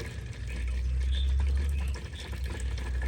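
Water trickles and gurgles steadily as it drains from the main transmission of an abandoned crane, a soft continuous flow with low rumbling undertone.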